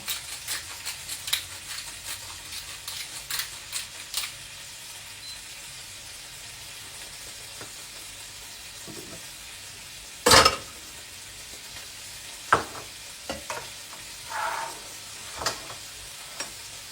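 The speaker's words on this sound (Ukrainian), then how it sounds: "обсмажуємо на середньому вогні." Food fries in a pan over medium heat with a soft, steady sizzle, broken by light stirring taps and scrapes, one louder clatter midway, and scattered quieter clicks; no voices.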